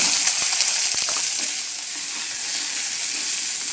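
Sliced onions fry in hot oil with cinnamon, cardamom and whole cumin, giving a bright, steady sizzle up close, with a few quick stirring scrapes near the start before the frying settles into an even hiss.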